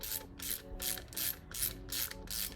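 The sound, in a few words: screw threading into 3D printed part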